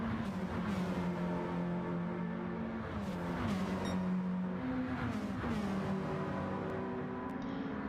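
Race car with a custom race exhaust, likely an inline six or turbo four, in a racing video game, engine droning loud and steady as it shifts down under braking into Murray's Corner, with crackles and pops, no talk.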